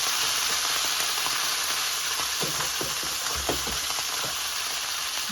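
Fish fries in a pan over a strong flame, a steady close sizzle and hiss broken by a few soft pops and stirring taps, with no voices.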